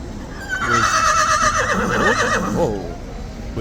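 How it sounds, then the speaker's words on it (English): A nervous horse at Horse Guards gives a loud, close whinny lasting a couple of seconds, rising and wavering before trailing off, with faint background noise around it. "This horse is nervous."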